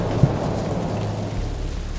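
Night rainstorm in a video game: a constant downpour hisses over a deep, rolling thunder rumble, heavy and close throughout the brief stretch.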